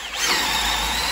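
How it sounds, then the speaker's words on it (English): A high-pitched power drill whines steadily at close range, a continuous buzzing squeal with no pauses. "When I drill through, slightly angled"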